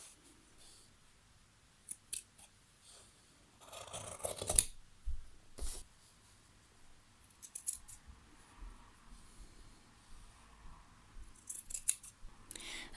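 Scissors snipping through folded long-sleeve fabric, a scattered series of close, crisp cuts with quiet pauses between, faint and alone without speech.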